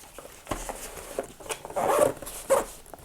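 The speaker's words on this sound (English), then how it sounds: "the only thing I don't like about this is the zippers. As you can hear, it's a little bit rough" A rough, scratchy zipper on a Cargo Works EDC Tech Kit V2 pouch is pulled open in a few short, uneven bursts, close by, with no voices.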